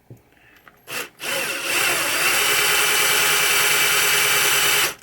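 Power drill working on a 1980 Williams Firepower pinball playfield during repair, with short spin-ups followed by a loud, steady whirring run lasting several seconds, close to the microphone, with no voices.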